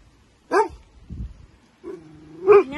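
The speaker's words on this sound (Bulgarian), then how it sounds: "Не дей да лаеш така" A dog barks twice, close and fairly loud, with a low whimpering or rustling sound between the barks and no speech.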